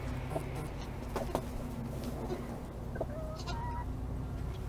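Backyard chickens kept alongside goats cluck and murmur softly around their waterer, scattered short calls over a low steady hum of outdoor background noise.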